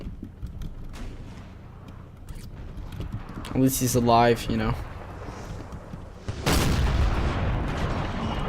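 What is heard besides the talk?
cannon artillery fire in Napoleon Total War video game battle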